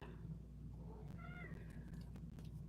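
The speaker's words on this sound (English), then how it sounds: "you hear Mr. Oliver meowing in the background" A cat meows a few times, faint and somewhat distant, over a steady low hum and light background clatter.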